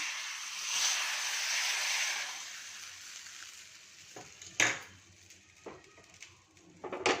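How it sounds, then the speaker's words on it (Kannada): A tempering of mustard seeds, chana dal, cumin, urad dal and curry leaves crackles in hot oil, a loud hissing sizzle that fades, followed by sharp metallic clinks and spoon scrapes. "ಒಗ್ಗರಣೆ ಸಾಸಿವೆ ಕಡಲೆಬೇಳೆ ಜೀರಿಗೆ ಉದ್ದಿನಬೇಳೆ ಕರ್ಬೇವಿನ ಸೊಪ್ಪು ಹಿಂಗೆ ಹಾಕಿದ್ದೀನಿ ಇದನ್ನು ಇದರೊಳಗೆ ಹಾಕೋಣ"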